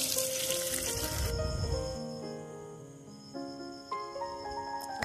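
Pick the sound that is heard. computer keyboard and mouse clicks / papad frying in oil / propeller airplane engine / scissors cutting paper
papad frying in oil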